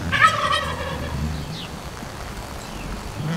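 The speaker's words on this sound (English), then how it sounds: "That's one of the Spanish turkeys." A Spanish turkey gobbles briefly at the start, then fades into steady outdoor background noise with no talking.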